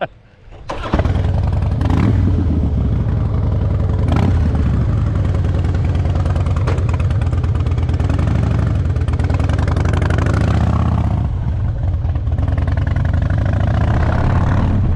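An abandoned Harley motorcycle with expired tags fires up after a brief quiet moment, then its engine runs loud and close in a steady, rumbling drone while being ridden.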